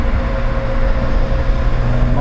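A Toyota AE86 with a 4.7 differential cruises in fourth gear at about 4000 RPM and roughly 90, heard from inside as a steady, loud engine drone mixed with road and tire rumble, unbroken throughout.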